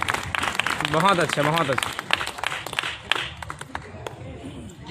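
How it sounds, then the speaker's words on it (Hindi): An audience at a poetry recital claps, with scattered, uneven applause running under a voice speaking, thinning out into sparse claps toward the end. "तालियां बजा दीजिए"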